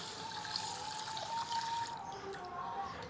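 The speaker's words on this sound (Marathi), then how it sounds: "हा अगोदर आपण स्वच्छ धुवून घेत आहोत" Rice being rinsed in water in a home kitchen, one cup of rice, with a steady soft trickling and sloshing of water that runs continuously, close by and moderately quiet.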